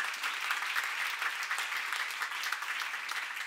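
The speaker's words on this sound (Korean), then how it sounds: "박수야" Church seminar congregation applauding, a dense steady wash of many clapping hands held at an even level throughout, with no voices rising above it.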